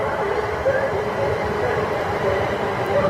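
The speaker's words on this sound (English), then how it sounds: "Here comes the London Midland 350 to London Euston" A London Midland Class 350 electric multiple unit pulls into a station platform with a steady, loud rumble of wheels and motors, continuous throughout and close by, with no clear talk over it.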